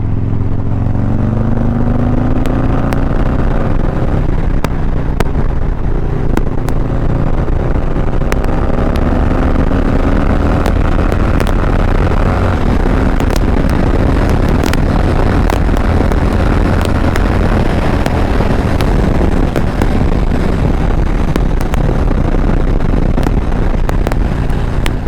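A big-bore Harley Dyna motorcycle with a Fab28 2-into-1 exhaust rumbles steadily at idle and low revs, deep and loud throughout, with wind buffeting the microphone.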